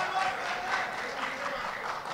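Audience applause breaks out during a political speech by Mali's Prime Minister Choguel, a steady wash of many hands clapping at moderate distance, with a faint voice underneath.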